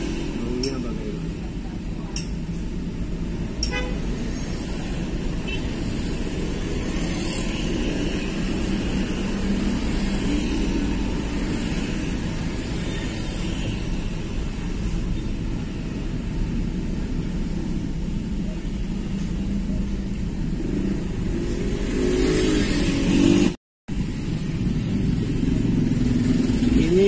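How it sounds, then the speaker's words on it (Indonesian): Busy road traffic in a jam at Parung, Indonesia, on a workday, with car engines running and accelerating in a steady, continuous rumble close by while a person talks over it. "Parung biasanya macet seperti ini"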